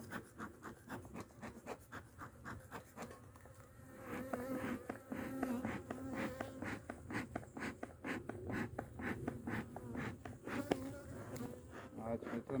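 Agitated honeybees at an open hive buzz in a dense, continuous drone up close, with a person talking quietly over it and light scraping or rubbing from handling the frames.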